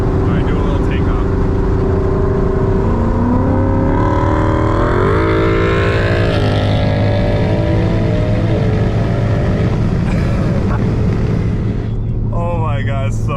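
A Mustang GT and a straight-piped Ford Focus ST accelerate on a highway, engines rising steadily in pitch through the gears with loud, continuous exhaust drone heard from inside a car, with people talking over it.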